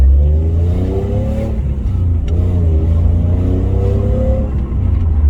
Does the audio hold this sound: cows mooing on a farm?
no